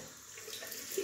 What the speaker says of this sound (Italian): Aggiungo acqua.